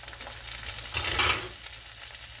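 Mushrooms frying in a pan for a vegan burger, a steady close sizzle with a brief louder stirring surge midway.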